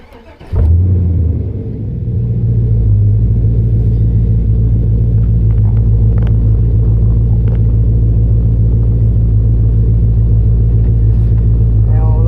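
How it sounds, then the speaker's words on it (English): An LQ4 V8 swapped into a Ford Ranger fires up from cold, catching sharply and then settling into a loud, steady, deep idle that runs slightly rich, close by. "This is a cold start, so that's a little bit rich, but that would make sense being a fresh start."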